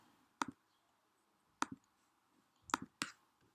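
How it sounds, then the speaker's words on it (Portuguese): Computer mouse clicks, four or five crisp isolated clicks spaced irregularly in a quiet room, no talking. "cliquei errado"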